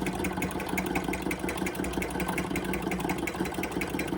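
Repaired George Carette Stirling engine running on a low flame, a steady mechanical chugging with even rhythmic ticking throughout, fairly close and unbroken.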